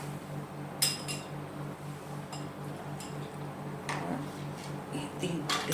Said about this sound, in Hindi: इसमें थोड़ा सा मैं ये आइस क्यूब डाल करके, जितना आपको ठंडा पीना हो इतना डाल लें।